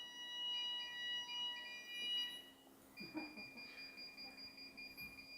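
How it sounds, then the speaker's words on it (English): A building alarm sounds as a faint, steady high electronic tone that shifts partway through, with quiet room noise underneath. "The alarm went."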